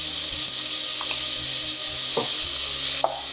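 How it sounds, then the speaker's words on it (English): Steady loud sizzling of carrots and chopped celery frying in a pot for Moroccan harira soup, with a few clinks and stirring scrapes over the continuous hiss. "I'm now just going to add in my carrots and my chopped celery."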